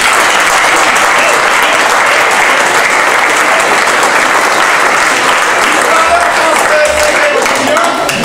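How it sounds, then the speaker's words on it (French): Loud, sustained audience applause during curtain-call bows at a French show honouring its crew and costume makers: dense clapping from a large crowd without pause. "Je voudrais qu'on applaudisse également."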